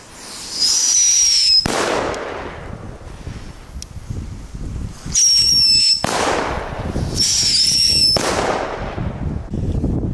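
Shrill whistling firework rockets screech upward, each ending in a loud bang, the pattern repeating twice with wind rumble in between.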